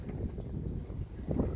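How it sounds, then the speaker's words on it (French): Wind blowing across the deck of a Comfortina 32 sailboat for sale, a steady low rushing roar buffeting the microphone, with no talk. "On a du vent, hein, mais bon, on peut pas tout avoir."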